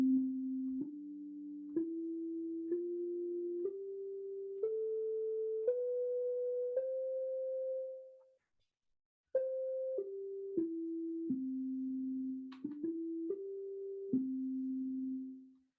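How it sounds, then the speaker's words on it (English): A series of pure electronic sine wave tones, each held about a second, stepping up in pitch, then a brief silence, then stepping back down. "So sine waves sound like this."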